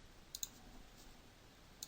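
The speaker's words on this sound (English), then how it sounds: "Double click this" Two quick computer mouse clicks close together, sharp and faint, followed a moment later by a single lone click in an otherwise quiet room.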